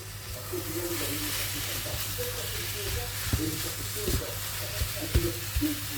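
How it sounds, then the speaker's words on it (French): Minced meat sizzles steadily in a pan, with occasional louder scrapes and clicks as it is stirred; the frying hiss runs continuously throughout. "Et on laisse cuire bien la viande hachée."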